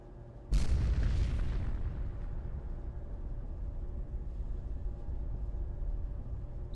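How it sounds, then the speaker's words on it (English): A reactor explodes in the video game Fallout 4 with a sudden heavy boom, followed by a long, deep rumbling roar that slowly fades but carries on to the end, with no talking. "Sounded like the reactor exploded."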